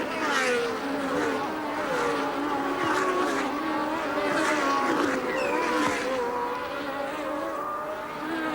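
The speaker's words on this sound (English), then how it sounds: "Nigel Mansell towards us in the Lotus 87" A Lotus 87 Formula One car screams toward the listener during the 1981 French Grand Prix, its high engine note rising and shifting through gears, with other race cars whining in the background.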